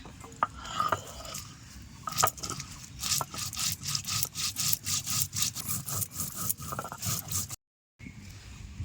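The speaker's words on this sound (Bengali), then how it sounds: "গোটা জিরে একসঙ্গে দিয়েই ভালো করে বেটে নেব। একটুখানি জল দিয়েই বাটতে হবে।" Whole cumin and coriander seeds are ground with a little water on a traditional grinding stone, a rhythmic back-and-forth rasping scrape repeating steadily at close range and breaking off briefly near the end.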